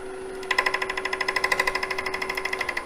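Wood lathe turning a spindle with a detailing gouge chatters after a loose tool rest shifts, giving a fast, even rattle of sharp pulses that starts abruptly and continues steadily, close and fairly loud.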